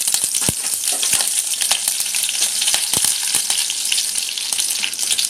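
Curry leaves hit hot oil with garlic and mustard seeds in a tempering for Malvani tomato saar, a loud, close, continuous sizzle with scattered sharp crackles.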